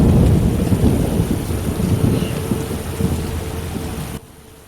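A thunderstorm with heavy rain in the video game The Witcher, a loud, dense roar of rainfall with low rumbling thunder throughout, which drops away sharply just before the end.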